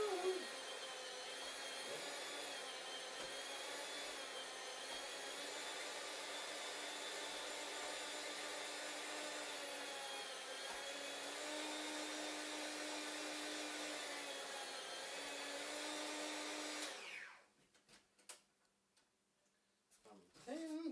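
Electric slicer with a greased blade cutting thin 2 millimeter slices of mozzarella, a steady loud motor whine running for about seventeen seconds before cutting off, followed by a few soft clicks and handling noises.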